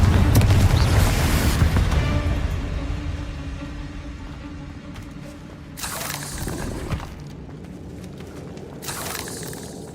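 Fiery spell blasts in Hogwarts Legacy: a loud booming explosion opens, then decays into a low rumble, with two more sharp bursts and crackling debris following mid-way and near the end.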